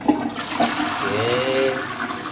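A seated toilet in a budget hotel room in Denpasar, Bali, flushes close by, with a rushing gurgle of water followed by a rising tonal refill whistle.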